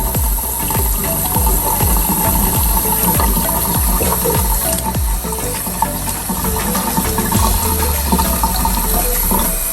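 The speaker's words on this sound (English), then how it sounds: "Run it under the water to let it mix and get it in." Water runs from a tap over hands in a steady, loud rush, splashing and gurgling into a sink close by, with repeated rhythmic slaps as the hands rub under the stream.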